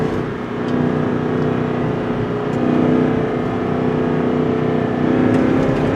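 A Toyota Sequoia SUV with a six-speed automatic, in four-wheel drive and first gear, pulls along a twisty road, its engine a steady, close drone that swells slightly under acceleration.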